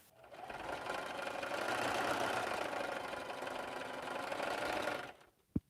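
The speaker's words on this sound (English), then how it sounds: "I'm basically just sewing random half square triangle." A sewing machine runs steadily while stitching half square triangle quilt pieces, its motor humming and needle chattering in an even rhythm for about five seconds. The machine then stops and a single sharp click follows.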